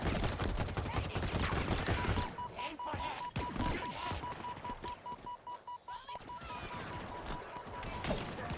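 Rapid, loud automatic gunfire in the shooter Halo Infinite, dense bursts of shots with impact crashes and a steady electronic beep, game voices speaking in between.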